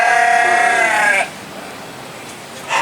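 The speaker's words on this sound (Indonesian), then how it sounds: "Ini sapera, pejantan sapera. Ini jenis kambing perah." A Saanen-cross dairy goat buck at an agricultural expo gives one loud, close, wavering bleat lasting over a second, then quiet crowd murmur, and a second bleat starts at the end.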